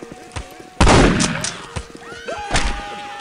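Gunfire in the PC game Postal 2, a loud sudden burst of shots followed by scattered shots and game noise, with a man reacting vocally around them.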